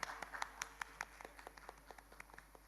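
A small audience claps for a guest at a Rajasthan talent hunt semifinal, a quiet, scattered patter of individual hand claps rather than full applause.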